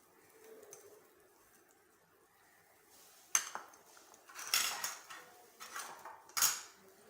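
Chopped ginger and garlic hit a hot tawa while chicken fry cooks, giving a few sharp clattering clinks and sizzling bursts after a quiet start, loud and close, with no speech.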